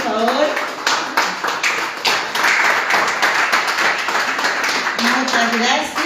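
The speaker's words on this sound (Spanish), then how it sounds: "un aplauso para ustedes, bienvenidos." Audience applause welcoming participants at the opening of a themed conference, a dense, loud burst of clapping that continues steadily throughout.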